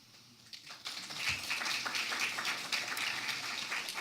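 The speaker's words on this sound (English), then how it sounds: "Thanks for that applause, I appreciate that" Audience applause at a Cultural Council of Palm Beach event, a soft scattered patter of clapping that builds within the first second and then holds steady and fairly distant.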